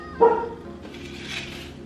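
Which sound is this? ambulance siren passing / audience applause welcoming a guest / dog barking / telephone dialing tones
dog barking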